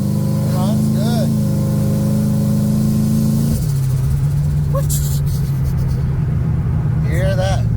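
A turbocharged 5.3 engine with a blow-off valve rumbles steadily up close, its tone dropping partway through, with short hissy bursts of blow-off venting in the later seconds.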